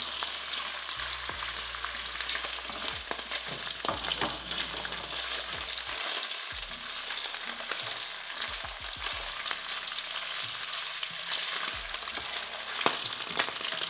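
Chicken sausages fry with garlic and ginger in a pan, a steady loud sizzle running throughout, broken by a few low knocks and stirring scrapes near the middle.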